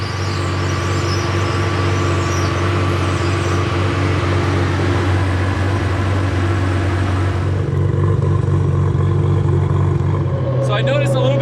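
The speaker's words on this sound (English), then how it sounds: "I think this is the first footage of the car with the sequential from the outside of the car" A Ford Mustang GT350 with a swapped Barra engine and sequential gearbox rumbles on the street, a steady loud low engine drone that holds throughout and shifts pitch near the end as it passes.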